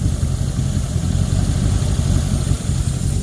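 A car engine idles steadily with a constant low rumble, fairly close and loud, after cooling system upgrades, with no other sounds.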